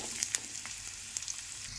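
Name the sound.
nalleru (Cissus quadrangularis) frying in a pan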